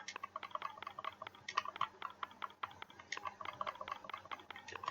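Quick bursts of keystrokes on a keyboard typing a search into a PlayStation store box, crisp close clicks in an uneven rhythm, fairly quiet with no speech over them.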